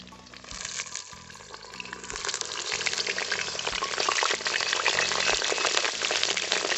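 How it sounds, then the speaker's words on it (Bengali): Cut potatoes frying in well-heated oil in a pan produce a dense sizzle that swells louder over the seconds, with occasional stirring scrapes. "যা আঁচ আছে আলুগুলো 3-4 মিনিটের মধ্যেই সুন্দর করে ভাজা ভাজা হয়ে যাবে"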